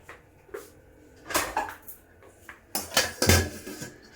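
A lid is set on a pot of hand-pounded brown rice with beans, giving several sharp metallic clanks and scrapes in an uneven cluster, close and clear with no talk.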